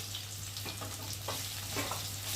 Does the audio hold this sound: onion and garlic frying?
yes